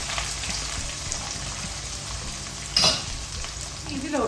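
Chopped onions with green chillies fry in hot oil, a soft continuous sizzle with a brief louder crackle and stir partway through, close and fairly quiet.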